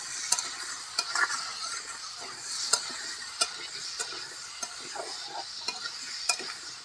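Jackfruit seeds with salt and turmeric are stirred in hot mustard oil, a soft constant sizzle under repeated sharp clicks of the spoon against the pan, close and with no voices.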